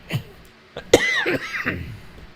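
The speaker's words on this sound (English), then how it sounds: "I can't quit coughing" A person coughs a few times up close, a short harsh hack followed by a rougher, throaty cough and a strained exhale.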